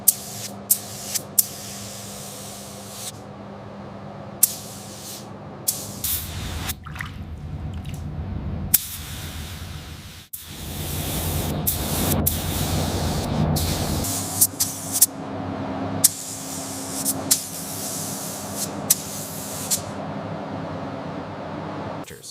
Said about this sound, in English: The mechanic begins spraying the clear coat